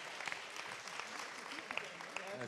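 Sustained applause from a crowd, a dense wash of clapping with a few voices audible underneath.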